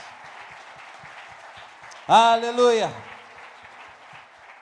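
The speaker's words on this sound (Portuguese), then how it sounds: "E dê um grande aplauso a Jesus." A church congregation at a Sunday celebration service claps steadily in the background, a soft continuous patter that carries on under a loud single shout from a man partway through.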